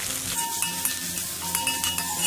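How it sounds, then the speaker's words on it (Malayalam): Ginger, garlic and green chillies sauté over high flame in a heavy-bottomed pan for mango pickle, a close, steady sizzle broken by a few sharp scrapes and clinks of a stirring spoon. "ഇനി ഇതിലേക്ക് നമുക്ക് ഈ ഇഞ്ചിയും വെളുത്തുള്ളിയും പച്ചമുളകും കൂടിയിട്ട് വഴറ്റി കൊടുക്കാം"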